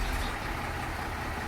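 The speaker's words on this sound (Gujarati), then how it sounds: "તો ટ્રેક્ટર અંદર આવી ગયું છે મિત્રો" A tractor engine rumbles steadily and loud at close range inside a cattle shed yard, a continuous low idling drone with no talking.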